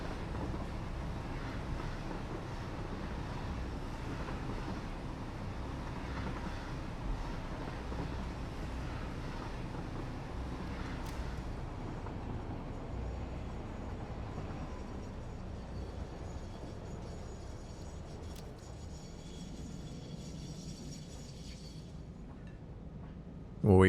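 Coal train rolling along its track in the Satisfactory factory game, a steady low rumble of wheels and engine drone sustained throughout, moderately loud and unbroken, fading slightly near the end.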